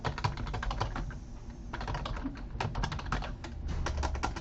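Rapid clicking of a computer keyboard as a file name is typed, a dense run of close key taps with a brief pause in the middle.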